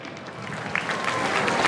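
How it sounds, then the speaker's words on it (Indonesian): Crowd applause at an outdoor ceremony for the returning national flag procession to Monas in Jakarta, a steady wash of many hands clapping at moderate volume, continuous through the moment. "boleh kita beri tepuk tangan sekali lagi"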